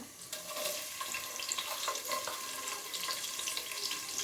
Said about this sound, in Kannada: ಸ್ವಲ್ಪ ಈರುಳ್ಳಿ ಚೆನ್ನಾಗಿ ಫ್ರೈ ಆಗಲಿ ಎಣ್ಣೆಲಿ